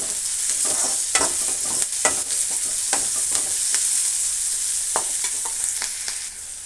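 Ginger-garlic paste sizzles steadily in hot oil in a pan for an egg and potato curry, with repeated scraping stirs cutting through the close, constant frying hiss.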